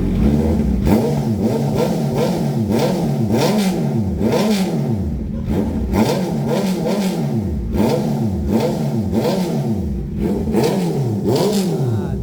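Honda CB650R motorcycle with an aftermarket full exhaust, held at 4,000 to 6,000 RPM, revved repeatedly in loud, close, rhythmic blips that rise and fall over a steady idle rumble, with no talking.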